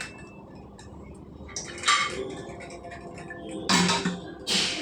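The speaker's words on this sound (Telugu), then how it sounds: "కుక్కర్ మూత తీసేసుకుంటాము" A pressure cooker lid is pulled off after cooking an ash gourd and tomato curry, with metallic clinks and clatters in a few separate bursts and quieter rattling in between. No one speaks.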